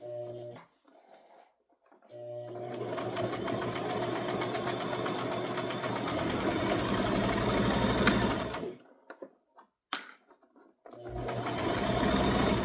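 A sewing machine stitches a toddler crossbody purse around a curve, running steadily and loud for several seconds with short pauses and restarts between bursts.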